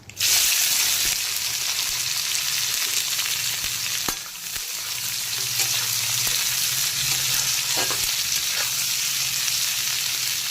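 Chopped onion hits hot oil already crackling with dried red chillies and five-spice for a ladyfinger curry: a loud, continuous sizzle with a couple of sharp stirring clinks from a spoon against the pan.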